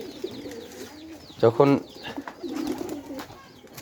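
A pigeon coos nearby in soft, low, rounded calls. Someone speaks briefly over the cooing, and the calls continue under light background noise.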